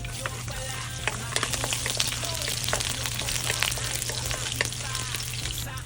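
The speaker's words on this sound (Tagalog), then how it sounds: "Unahin ko na ilagay ang aking bawang." Garlic fries in hot oil in a pan with a continuous crackling sizzle, dotted with sharp pops and spits throughout, close and fairly loud, with a low steady hum underneath.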